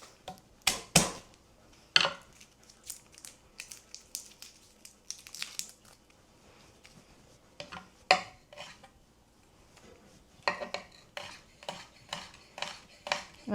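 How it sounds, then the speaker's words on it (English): Garlic clove crushed and chopped for a lobster carbonara, heard as sharp knife thuds and clacks on a board in scattered bursts with brief pauses, close and fairly loud, no talking. "I'm going to crush and chop a clove of garlic"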